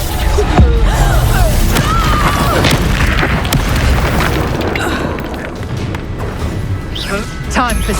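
Reducto curse explosion in the Hogwarts Legacy video game, a loud booming blast with rumbling debris amid busy combat effects, partly under overlapping character voices.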